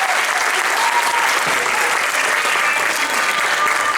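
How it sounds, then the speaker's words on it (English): Steady, dense applause from an audience fills the room without a break, honouring a varsity choir of all freshmen. "give one more round of applause for our varsity girl,"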